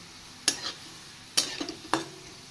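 Onions fry in a pan until browned, giving a soft continuous sizzle broken by three distinct stirring scrapes, close and moderately quiet, with no voices.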